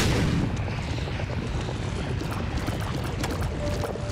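A booming bomb explosion in The Binding of Isaac: Repentance, a loud, broad rumbling blast that starts at full strength and rolls on steadily without pause.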